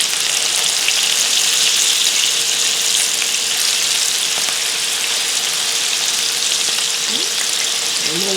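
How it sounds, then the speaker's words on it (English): Cabbage and onion patties frying in a pan, a steady loud sizzle and crackle of hot oil that runs unbroken throughout, with a faint tonal hum beneath. "And we'll let them fry for a few more minutes."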